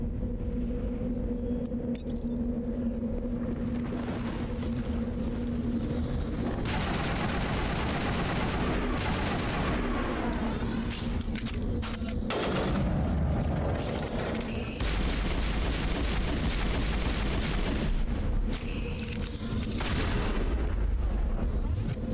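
Gunfire in the sci-fi shooter Mass Effect, with dense bursts of shots and heavy booming impacts running continuously through a loud, busy battle mix.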